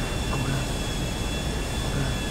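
Steady, dense drone of a damaged, smoking airplane's engine in Grand Theft Auto V, a loud continuous roar with no pauses and no talking.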